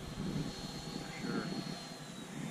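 A Freewing F-22 Raptor RC jet on a light 5,000 mAh pack flies nearby with a steady ducted-fan whine and broadband roar that holds across the whole stretch, with faint voices talking underneath.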